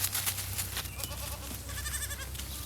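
A herd of goats grazing invasive buckthorn and honeysuckle in a park bleats in short, wavering calls over a steady low hum, fairly close and moderately loud.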